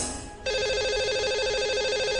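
A telephone rings steadily on a Hindi radio call-in program as the line to a caller is dialed, a sustained electronic warbling ring starting abruptly and continuing close and loud.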